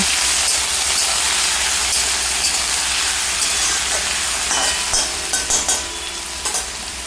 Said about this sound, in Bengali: এই এখন আমি দিয়ে দিচ্ছি কেটে রাখা আলুগুলো দিয়ে একটু ভাজার পরে